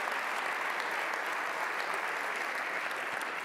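Sustained applause from a large audience at the Cycle Oregon 2012 kickoff, a dense, even wash of clapping that stays loud and steady throughout with no voices standing out.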